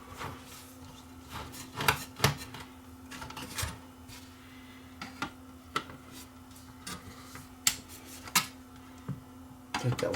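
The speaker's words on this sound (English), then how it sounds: "And remove the screws that hold the power supply in place." A screwdriver works screws out of the power supply of a Toshiba Funai DVD VCR combo, producing close, faint scraping and clicking ticks at irregular intervals over a low electrical hum.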